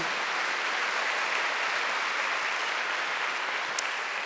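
Steady applause from a church congregation at a Wednesday worship service, a dense, even wash of clapping that holds at a moderate, slightly distant level for a few seconds with no voices over it.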